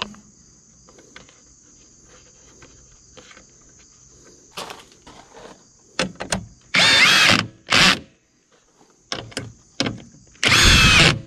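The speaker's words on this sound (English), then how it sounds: "Next is going to be putting these 4 10mm screws in" A power drill drives four 10mm screws into the grille of a 2021 Ford F150 Lariat, giving several loud whirring bursts of a second or so each, separated by clicks and handling noises, with a steady high electronic whine behind them.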